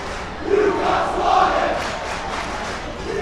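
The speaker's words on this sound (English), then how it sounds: "the away crowd here is loving it" An away crowd at a high school boys basketball game between Creighton Prep and Omaha Westside roars and cheers in a dense, sustained swell that peaks twice, filling the gym with no clear speech.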